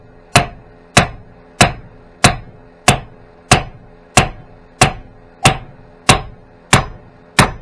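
A hammer delivering evenly spaced, sharp taps to seat a part on a Corvette trailing arm held in a vise, about a dozen close, ringing metallic strikes in a steady rhythm with nothing else heard.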